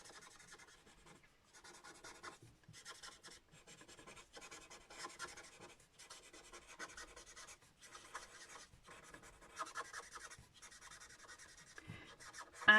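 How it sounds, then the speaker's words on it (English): Brush-tip colour lifter marker from Stampin' Up Blends working over paper, soft close scratchy rubbing in repeated short strokes with brief pauses, quiet and without talking. "I'm using the brush tip and I'm just going to go over the edge of each of these petals and I'm just going to draw the colour out"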